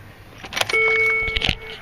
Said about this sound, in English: Turn on the keys.